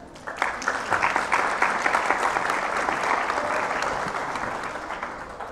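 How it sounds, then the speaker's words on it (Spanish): An audience applauds a moderator at an institutional panel session in Mexico, a steady, moderately loud round of clapping that swells early and gradually tapers toward the end. "Un aplauso, por favor."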